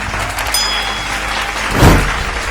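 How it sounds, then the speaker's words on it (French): A church congregation claps for Jesus during a French-language sermon, a diffuse burst of applause swelling near the end over steady background noise. "Acclame pour Jésus"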